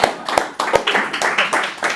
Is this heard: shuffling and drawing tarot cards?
no